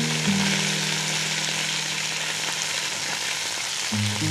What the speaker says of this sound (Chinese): 可以把它这样子煎一煎